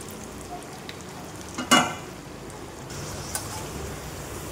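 Potatoes fry in hot oil with a steady, soft sizzling hiss, and a couple of brief stirring clatters sound close by.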